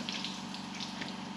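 Liquid paint poured during a touch-up coat on a hook-lift trailer, giving a steady, soft continuous trickle and splash at close range with no talking.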